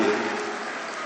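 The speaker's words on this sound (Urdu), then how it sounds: "زوردار تالیاں ان کے استقبال کے لیے۔" Crowd applause greeting poet Munawwar Rana as he arrives at the Dewa Sharif All India Mushaira 2018, a dense, steady clapping texture held through a brief second without any voices.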